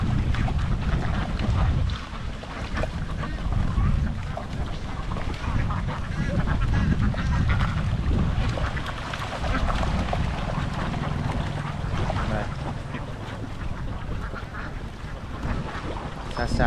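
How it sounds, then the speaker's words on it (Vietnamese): More than 2000 ducks are herded home by a duck farmer, a continuous outdoor din of massed quacking mixed with heavy wind buffeting the microphone and a low engine-like rumble, with brief talk buried in the noise. "anh lùa cái đàn vịt này về các bạn"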